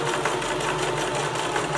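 Sewing machine running a basting stitch to gather fabric, a fast, even mechanical whir and rattle heard close up for a couple of seconds without speech.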